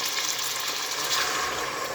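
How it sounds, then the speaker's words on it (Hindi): Half a cup of water is poured into a pan of browned fried onions and tomatoes, making a steady broadband splashing gush that lasts the whole stretch. "अब इसमें ऐड कर दूँगी साथ ही टमाटर और हाफ कप पानी"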